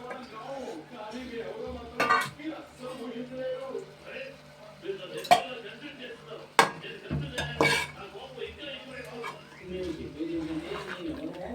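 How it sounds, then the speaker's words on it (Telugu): Chopped pieces dropped into a cooking pot, with metal clinks of a utensil against the pot and stirring scrapes, while someone talks throughout. "ఇవన్నీ ముక్కలు వేసేస్తున్నాను, ముక్కలు."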